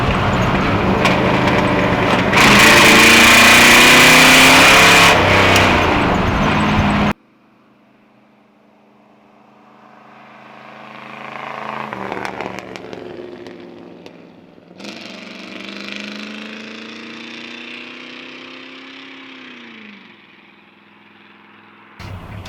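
A 1966 Chevrolet Impala SS engine roars loudly for several seconds at steady high revs, cuts off abruptly, then quieter engine rises and falls return after a pause.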